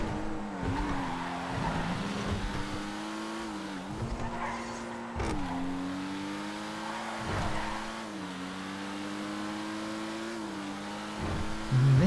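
A Pariah race car in GTA FiveM drives with a steady engine drone that dips and rises through gear changes, with tyre squeals and bumps along the way, close and loud throughout, no talk.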